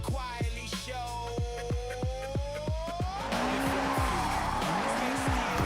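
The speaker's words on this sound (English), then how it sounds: "Except the car sounds still loud." Race car engine in the Forza 6 video game revving hard through rapid gear changes, then tires squealing and skidding, loud and continuous with music playing underneath.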